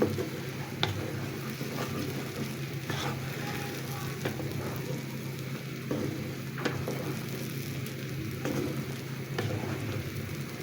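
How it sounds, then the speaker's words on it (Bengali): Raw mango oil pickle cooking in a pan, a steady low bubbling sizzle with occasional soft pops and clicks, moderately close and unbroken for the whole span. "তার 2 মিনিটের মতো আমি জাল দিয়ে নিচ্ছি এখানে আচারটাকে"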